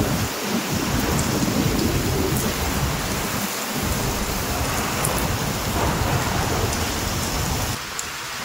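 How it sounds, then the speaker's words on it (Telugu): Heavy rain pours down in a thunderstorm over Telangana's Adilabad district, a dense, continuous roar of rainfall with low thunder rumbling beneath and gusts of wind, heard close with no voices. "తెలంగాణలోని పలు జిల్లాల్లో భారీ వర్షాలు కురిశాయి."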